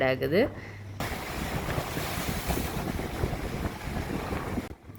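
Loud, continuous roar of giant waves and rushing surf at Point Pedro jetty, Sri Lanka, mixed with strong wind buffeting the microphone, steady throughout after a brief sharp start.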